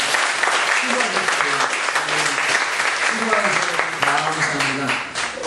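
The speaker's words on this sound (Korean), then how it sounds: "하나님 앞에 감사와 영광의 박수 한번 올려드리겠습니다" A church congregation at a Sunday service claps together in thanks, a loud, full burst of many hands filling the room, with voices calling out over the applause.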